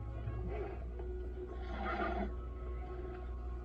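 Horse whinnying with a drawn-out, wavering neigh near the middle, over steady low background noise and faint hoof movement; old mare, close by, no talk.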